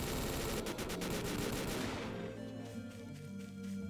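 Rapid automatic gunfire from a gun in the video game Garry's Mod, a loud dense burst of shots for about two seconds that then gives way to quieter game ambience and rumble.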